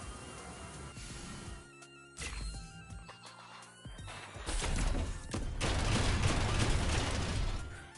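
Gunfire from a Front Mission 2 Remake battle aimed at an enemy's legs: a few sharp thuds early, then a dense, loud fusillade of shots building through the second half with no voices over it.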